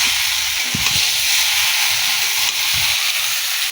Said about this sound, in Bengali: এই যে এখানে রান্না হচ্ছে আলু, গাছ আলু, বেগুন আর মাছের মাথা দিয়ে